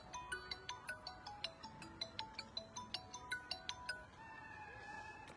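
Phone ringtone plays an incoming-call melody of repeated electronic beeping notes in a quick regular pattern, fairly faint, then stops near the end.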